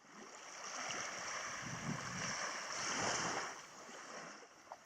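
Waves washing onto a beach at Vava'u, a soft, broad, continuous rush of surf that swells and fades gently, fairly faint and with no one talking.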